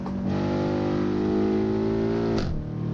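A 2020 BMW X6M's engine revs hard and climbs steadily on the Nürburgring, then a sharp upshift drops the pitch near the end. The engine note is close, loud and continuous, with no talking.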